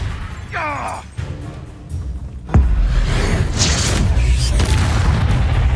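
Confringo spell explosion in Hogwarts Legacy, a sharp loud blast followed by a sustained low rumbling roar, with brief whooshing spell sounds just before.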